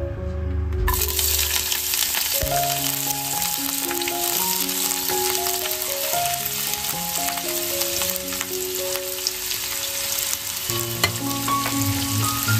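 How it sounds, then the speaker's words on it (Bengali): Onion and chopped green chili fry in hot oil, a loud, continuous crackling sizzle with bright spatters that starts abruptly and runs steadily throughout, with no talking. "পেঁয়াজ আর লঙ্কাটা আমি হালকা করে ভেজে নিয়েছি।"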